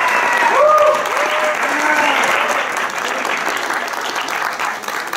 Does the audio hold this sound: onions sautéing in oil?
no